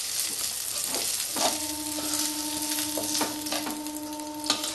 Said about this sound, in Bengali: এবার আমি একটা একটা করে সবজি ভাজবো। করলাটা আমার ভাজা হয়ে গেছে, লাল লাল করে ভাজা হয়ে গেছে।